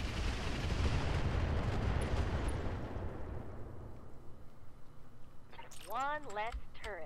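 Mech weapons from Roguetech pounding a turret in a dense, rumbling barrage of blasts that fades into lingering low noise, followed by a few chirping warbling tones.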